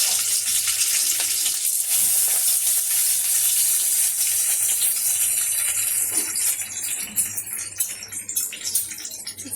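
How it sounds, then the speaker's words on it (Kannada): Cinnamon, cloves, cardamom and pepper fry in hot oil with a steady high hiss and crackle, loud and close, thinning and growing more uneven toward the end. "ಈಗ ಫಸ್ಟು ಚಕ್ಕೆ, ಲವಂಗ, ಏಲಕ್ಕಿಕಾಯಿ, ಮೆಣಸು ಹಾಕ್ಕೊಳ್ಳೋಣ ಹುರಿಯೋದಕ್ಕೆ"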